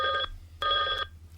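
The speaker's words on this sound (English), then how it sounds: "Uh-oh, here's our phone call." A telephone rings for an incoming call during a home broadcast: two distinct bursts of bell-like ringing separated by a short pause, fairly loud over a low background hum, with no talking.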